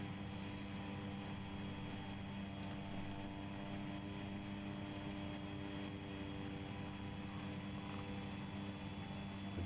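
Small aircraft cruising at 100 knots with altitude hold engaged in a flight simulator on approach, a steady droning engine hum with layered tonal whine, constant and even throughout, no talking.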